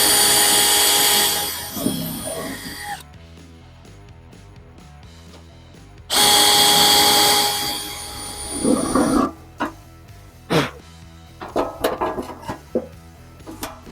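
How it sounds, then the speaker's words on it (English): A power drill whines loudly in two long bursts, each grinding down as it bites into rivets on a Jeep JK fender flare, separated by quiet, then several short sharp clanks and taps. "we're just going to drill them out"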